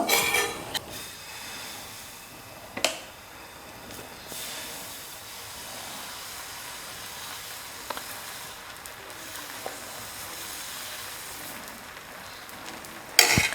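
Dosa batter hitting a hot dosa griddle (tawa) on a stove, giving a steady, fairly loud hiss and sizzle that runs throughout, broken by a few sharp clicks and taps.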